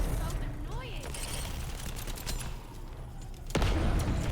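Rapid gunfire from The First Descendant video game rattles in bursts during a boss fight, with a sharp loud hit near the end, mixed under game sounds and players talking.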